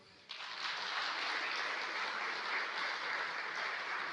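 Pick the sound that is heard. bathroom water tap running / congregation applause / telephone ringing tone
congregation applause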